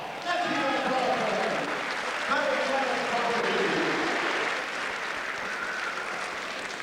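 A crowd at a boxing night in the Ulster Hall applauds throughout, a steady broadband clatter of many hands with an amplified announcer's voice talking over it.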